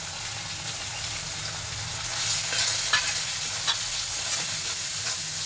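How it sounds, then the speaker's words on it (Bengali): Ground turmeric, chili, coriander and cumin powders frying in oil with ginger and cumin, a steady bright hiss and sizzle up close, stirred with intermittent scraping and soft clicks. "এবারও আর একটু ভালো করে কষিয়ে নেব"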